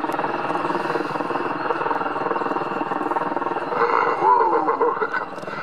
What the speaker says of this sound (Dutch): dit zijn ook manoeuvres die onmogelijk werden gedacht voor een helikopter tot de Apache er was